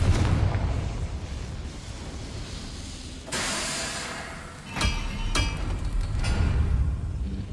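In the Hogwarts Legacy video game, a Confringo spell blast erupts as a sudden broad whooshing burst, followed by a couple of sharper cracking pops over a steady, hissing game soundscape.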